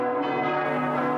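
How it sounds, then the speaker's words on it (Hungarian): Church bells toll outside in a steady, sustained ring, rich overlapping tones sounding alone without any voices. "Odakint kongtak a harangok."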